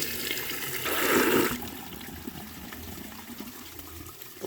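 A life-size clay toilet with a concealed siphon jet flushes about 1.28 gallons in one short, rushing burst of water that fades into a quiet trickle of refilling.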